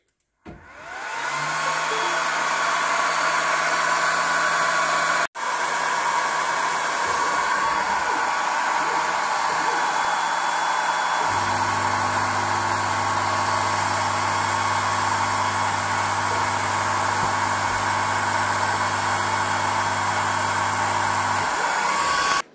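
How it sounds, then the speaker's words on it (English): Longer Ray5 laser engraver module with its cooling fan running at full power while cutting 3/8-inch plywood in a single pass; a steady, loud whirring drone that continues without a break, with a lower hum joining about halfway through. "I'm gonna go ahead and fire up the laser and you can take a listen"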